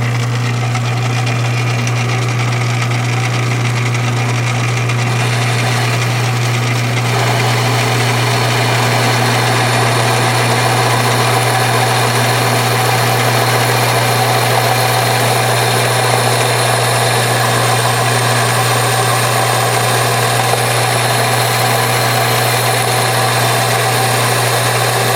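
A lathe machines a backing plate for a four-jaw chuck. The motor gives a steady, loud hum with a constant whine throughout, and no one speaks.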